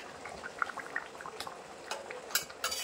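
Silver carp kalia curry with tomato bubbling in a pan, faint soft pops and gurgles scattered irregularly over a low simmer hiss.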